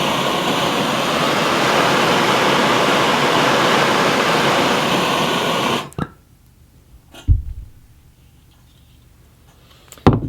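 Butane burns with oxygen in a loud, steady roaring rush lasting about six seconds, then cuts off sharply, leaving near silence broken by a few faint knocks.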